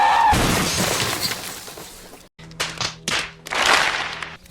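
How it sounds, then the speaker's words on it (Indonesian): A bus smashes into a police car in the Zootopia Horror video game, giving a loud sustained crash with shattering debris, then a short gap and several further clattering impacts. "ini busnya ngapa nabrak mobil polisi"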